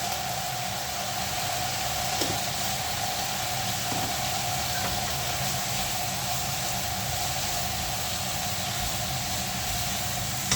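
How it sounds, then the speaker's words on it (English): Electric kettle boiling: a steady, close rushing hiss with a faint rumble underneath, unchanging throughout with no talk. "I'm sorry, that noise is the kettle."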